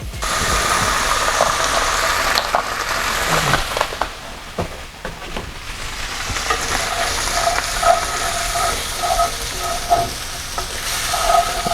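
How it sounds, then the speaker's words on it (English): A hot pan is deglazed with vegetables and a splash of broth while a dark roux cooks: loud, steady close sizzling and bubbling with stirring scrapes and a brief liquid gush, no talking over it. "we're actually gonna deglaze this pan using some of our veggies"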